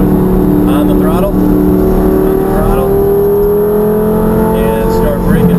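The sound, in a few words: Lamborghini engine accelerating on track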